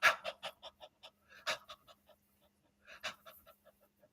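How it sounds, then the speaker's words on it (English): A person panting hard on purpose to force a panic, fight-or-flight state: rapid, breathy huffs in quick bursts, close and fairly loud, easing into lighter, spaced breaths before a second fast run. "I'm going to force myself into a panic state, a fight or flight state, by panting."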